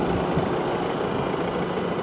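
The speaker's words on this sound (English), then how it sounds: "The engine's running at the moment so you can hear it's a nice quiet diesel" A Volvo S60 R-Design diesel engine idles steadily and quietly at close range, a smooth continuous hum with no talking over it.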